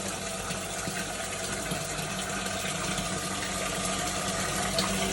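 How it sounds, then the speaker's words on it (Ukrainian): A drainage pump pulls water from a freshly drilled Abyssinian well, giving a continuous gushing, churning hum, steady and fairly quiet throughout. "Так, дренажником."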